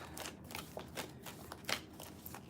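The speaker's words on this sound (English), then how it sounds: "And then we'll do a quick shuffle." Tarot cards given a quick shuffle before a zodiac reading, soft papery swipes and snaps repeating irregularly, close but faint with a low background hum.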